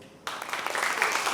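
An audience at a poetry slam bursts into applause for a performer, the clapping starting abruptly and swelling into a bright, sustained patter.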